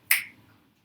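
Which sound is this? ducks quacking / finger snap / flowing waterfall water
finger snap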